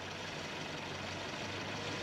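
A warm Citroën Visa GTI engine idles around 850 to 900 rpm, making a faint, even, continuous hum with no change in revs and no voices.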